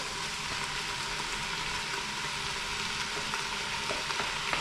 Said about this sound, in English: So I'm going to add my 3 sausages in here.